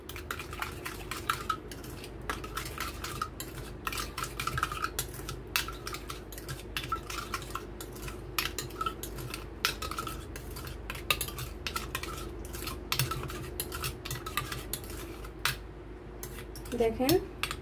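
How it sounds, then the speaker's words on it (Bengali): Ground coriander and cumin are mixed in a bowl with a spoon, producing steady rapid light scraping and tapping close up over a continuous low hum, with no talking. "এখানে ধনিয়া এবং জিরে ফাঁকি দিয়ে দিব। এভাবে ভালোভাবে মিশিয়ে নিতে হবে।"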